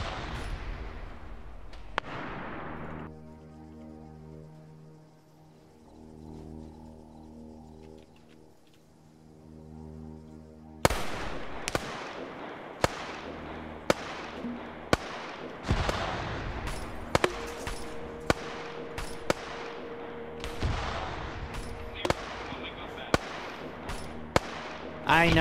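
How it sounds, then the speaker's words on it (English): Grenade launchers firing in the Arma 3 video game: a rapid series of sharp, loud blasts and pops in the second half, following a quieter opening of low droning tones. "I'm hearing the GLs firing"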